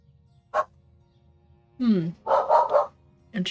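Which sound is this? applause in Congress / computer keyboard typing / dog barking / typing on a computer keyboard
dog barking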